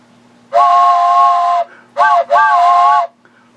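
Steam train whistle sounding three blasts, one long then two shorter, loud and close with a bright harmonic tone over a faint low hum.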